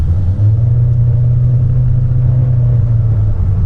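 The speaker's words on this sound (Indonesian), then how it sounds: "kalau kita kick down, putarannya tuh konstan, jadi suara mesinnya cuma gitu, konstan doang, cuma manteng di situ doang" A Honda Brio with a CVT gearbox, driven in Bali, holds its engine at a steady, constant drone under kick-down acceleration, a loud low rumble inside the car that barely changes pitch.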